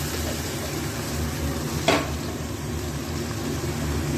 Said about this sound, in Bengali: এবার ম্যারিনেটেড চিকেনটা দিয়ে দেবো, গোলমরিচ, দই আর নুন দিয়ে যেটা ম্যারিনেট করে রেখেছিলাম।